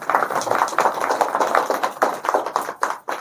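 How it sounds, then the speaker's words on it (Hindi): An audience at a Brahma Kumaris spiritual gathering in Jharkhand claps hands in a loud, continuous burst of dense applause that swells and fades in waves before trailing off. "ताली तो बजाओ।"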